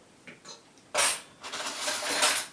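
A metal spoon clinks and scrapes against dishes nearby in a few short bright rattles and clatters, with no talk.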